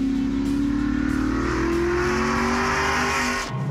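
A Pontiac Parisienne's engine pulls hard under acceleration in third gear, a loud steady drone rising slowly in pitch with tire and road noise, then easing off at the end.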